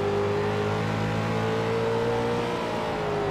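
A street stock race car engine at Irwindale Speedway revs hard as the driver gets back on the throttle, a loud, rising whine with steady tonal harmonics, no talking.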